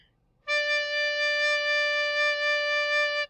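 A low D held on a small holed wind instrument with only the bottom hole open, played with very slow air; a single steady note, clear and moderately loud, lasting nearly three seconds with no talking.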